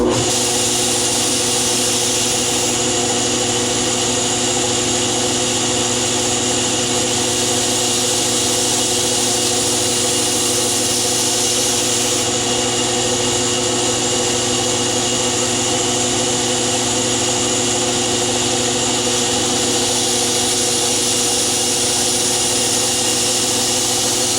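A sharpening machine, likely a belt grinder, runs steadily while a knife blade is sharpened in a bubble jig, a continuous loud machine hum and hiss with no talking.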